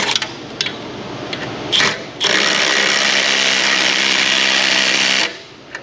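Quarter-inch drive impact gun working on a Silverado truck exhaust, a few short bursts followed by one long sustained buzzing run of about three seconds, close and loud.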